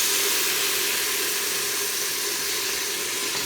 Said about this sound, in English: I'm going to add this whole container of vegetable broth.